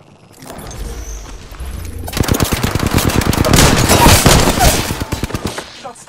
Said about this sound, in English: Shots fired at me. Many.